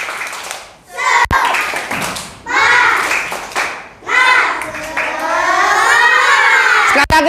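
Students in a teacher-training classroom clap in rhythmic bursts of a spirit-clap routine, loud and close, alternating with a teacher's voice and children's chanting between the clapping sections.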